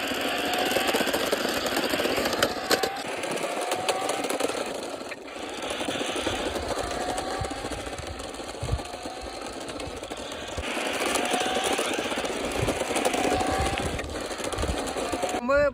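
A toy RC Tata Ace pickup truck's small electric motor buzzes and whirs continuously as it drives fast, a steady high rattling whine with someone talking over it throughout.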